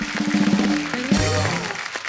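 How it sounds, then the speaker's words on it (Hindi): A studio audience at a comedy talk show claps under loud music and voices. The applause is fairly faint and mostly buried beneath the other sound. "एक बार जॉन और मोनी के लिए जोरदार तालियां"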